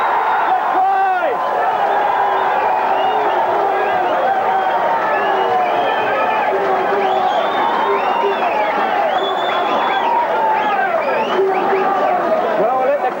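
A rugby league crowd roaring after a try in a 1982 Kiwis versus Papua New Guinea match: a sustained, loud wall of cheering and shouting that swells and holds, with voices woven through it.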